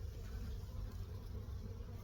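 Honey bees working at their hives, a soft, steady, low buzzing hum that stays even throughout, heard at a distance without voices.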